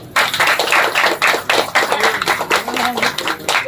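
An audience at a Women's Day special event claps for the women. Dense, lively applause fills the whole stretch, close and fairly loud, with uneven surges of many hands.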